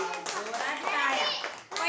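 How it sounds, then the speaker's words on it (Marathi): Schoolchildren in a classroom clap loudly together in a brief burst, with a voice and other young voices talking over the clapping, close and lively. "जोरात टाळ्या"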